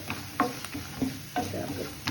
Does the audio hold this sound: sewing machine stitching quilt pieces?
no